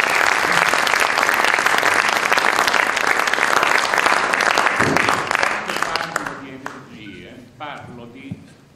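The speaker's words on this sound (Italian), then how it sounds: "quello del marito Bubbi Durini, a cui vorrei dedicare un applauso." Audience applause at a fine arts academy event, a loud sustained crowd clapping that gradually thins out as voices begin to emerge toward the end.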